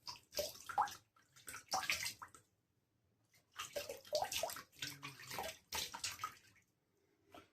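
Tap water runs in bursts to wet a pre-shave on Memorial Day, a close, splashy hissing flow that starts and stops several times with short silent gaps between.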